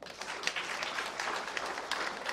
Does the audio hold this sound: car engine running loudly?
no